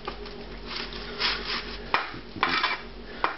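Roasted cauliflower florets are pushed around a baking pan, a few short scraping and clinking strokes of a utensil against the metal, close and fairly quiet, separated by brief pauses.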